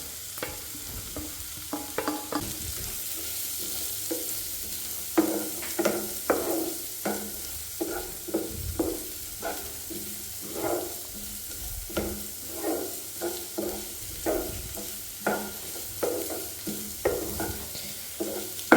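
Chopped onion and green chillies fry in a pan, with a steady sizzle under repeated scraping stirs of a spatula at an uneven rhythm, close and moderately loud with no voices.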